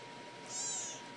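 A single soft, high kitten meow, fairly quiet and alone, rising and falling in the middle of the moment.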